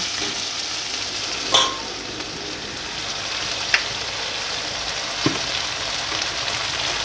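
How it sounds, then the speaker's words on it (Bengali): Fried potatoes in a village kitchen sizzle steadily with a paste of onion, ginger, garlic and cumin, and a spatula scrapes and knocks a few times against the pan, close and continuous, with no talking. "এবার আমি দিয়ে দেবো পেঁয়াজ আদা রসুন বাটা আর একটু জিরে বাটা দেখো ভালো করে কষিয়ে নেব"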